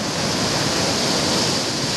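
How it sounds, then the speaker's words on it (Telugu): Water gushing forcefully down a small village waterfall in the Araku tribal area, a steady, loud, close roar of rushing water with no break and no voices. "చూడండి ఫ్రెండ్స్ ఎంత ఫోర్స్గా అంటే వేగంగా వస్తుందో వాటర్ మాత్రం"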